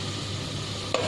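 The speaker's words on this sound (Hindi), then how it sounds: "अब इसी कुकिंग ऑयल में हम भिंडी को फ्राई करेंगे।" Okra fries in cooking oil already used for mutton, a brief, steady loud sizzle with a small clink near the end.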